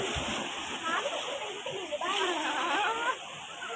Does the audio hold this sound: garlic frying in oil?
no